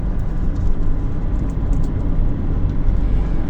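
A car cruises along a highway between Kremenets and Ternopil, a steady low rumble of engine and tyre noise filling the cabin evenly and continuously without pauses.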